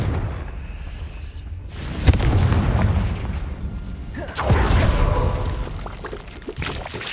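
Confringo blasting spell explosions in the Hogwarts Legacy video game: two loud, booming blasts with rumbling tails, the second about two seconds after the first, over a steady low background.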